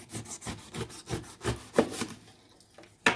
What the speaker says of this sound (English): I'm gonna start peeling the pineapple for my pineapple salsa.